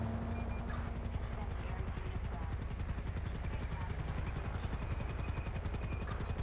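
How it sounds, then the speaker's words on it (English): A helicopter flies overhead in GTA V with the LSPDFR police mod, its rapid rotor chop a steady loud pulsing beat filling the whole stretch, with speech faintly mixed in. "I haven't actually seen a chopper out here just flying around in a long time"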